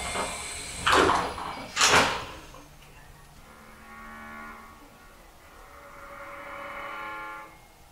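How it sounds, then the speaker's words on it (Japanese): A Tobu Series 30000 train's doors shut with two sharp, close thuds about a second apart, followed by a quieter whining hum from the train. "2番線ドアが閉まります。"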